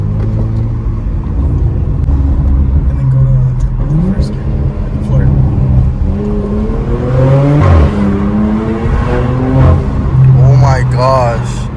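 A Porsche fitted with a loud aftermarket exhaust revs hard and close, its engine note climbing and dropping in repeated sweeps, with people talking over it.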